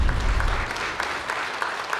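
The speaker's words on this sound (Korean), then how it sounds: "박수 부탁드립니다." Audience applause at a Labour Day commemoration ceremony, a steady crowd clapping that starts loud with a low rumble and carries on evenly for two seconds.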